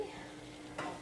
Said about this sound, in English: So light olive oil for cooking. Sauteing the onion.